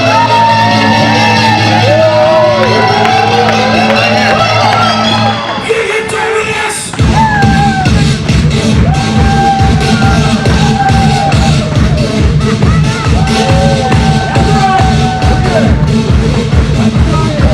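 A live motivational event crowd jumping and screaming, a loud, continuous wall of shouts and whoops with a short dip, then a heavy rhythmic thumping of stomping feet or a beat under sustained cheering.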